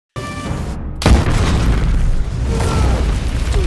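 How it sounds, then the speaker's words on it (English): A dynamite explosion on ice: a single loud, deep blast erupts after a brief silence, followed by a long, rumbling roar that lingers and slowly settles. "The explosion rips through the silence,"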